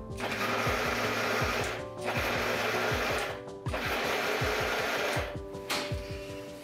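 A kitchen blender whirring through a grated potato pancake batter for Korean gamja jeon, in three loud, steady motor runs separated by brief pauses, with chopping rattles of the blades through the mixture.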